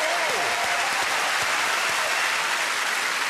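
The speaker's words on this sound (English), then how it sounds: "Can I please get a big round of applause" A large theatre audience at a royal variety show claps continuously, a dense, loud, sustained roar of applause with a few faint overlapping sounds.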